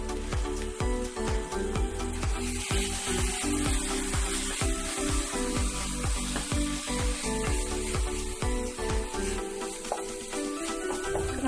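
Chicken sautéing in a hot pan for a spicy kondattam gravy, with a loud continuous sizzle broken by repeated scraping strokes of a spatula stirring the pieces, with no voices.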